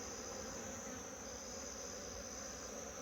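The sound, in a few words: honeybees buzzing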